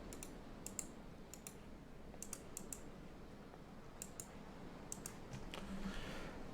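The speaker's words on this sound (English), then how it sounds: "pressing F, pressing E, pressing every key on the keyboard" A computer keyboard is tapped in quiet clusters of two to four keypresses, separated by short pauses, over a faint background hum.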